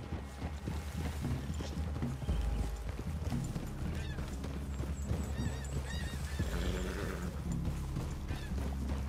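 Horses in Red Dead Redemption 2, a Western video game, give repeated whinnies and neighs over a steady clip-clop of hooves, with a constant low rumble of ambience beneath, fairly close and continuous.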